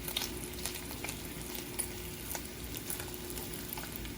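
Bacon frying in a pan over a gas flame for a BLT breakfast sandwich, a steady soft sizzle with faint crackling pops throughout, no voices.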